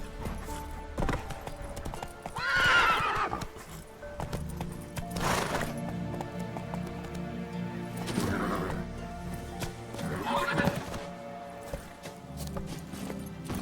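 In The Witcher video game, the horse Roach's hooves clip-clop in a steady rhythm at close range, broken by several loud whinnies and snorts, with faint background music.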